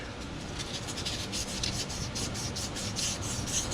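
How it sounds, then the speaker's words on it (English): Sandpaper scrapes back and forth across rusty metal on a Subaru wheel bearing job, in quick, even strokes, a close rasping rub repeated steadily. "we're just gonna give this a little sanding, just trying to break up any rust"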